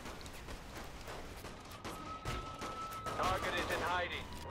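A turret fires on a bridge against SWAT attackers in the video game Saints Row 3, faint rapid bursts of gunshots repeating in an uneven rhythm, with a voice in the mix.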